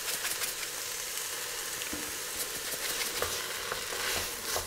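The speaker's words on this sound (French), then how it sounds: "On les fait revenir pendant 5 minutes." Onions soften in a frying pan that is not very hot, a gentle steady hiss with faint stirring scrapes and small crackles.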